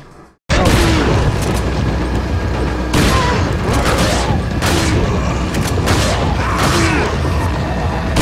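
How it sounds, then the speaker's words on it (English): Repeated heavy shotgun blasts in Resident Evil 4, loud booming reports at an uneven pace of roughly one every second or two over a constant noisy game backdrop, with no talking. "Alright, shotgun time!"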